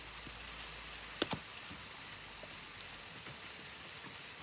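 Steady rain falling outdoors, a soft even hiss throughout with a couple of brief louder drips or taps near the start.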